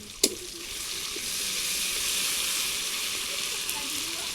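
Spices frying in a pan of oil while cooking a pumpkin-greens and crab dish, a steady close sizzle and hiss with a sharp clink at the start and another near the end.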